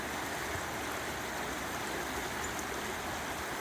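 The Credit River flows on a sunny October day, its water making a continuous, even rushing sound that fills the scene without a pause.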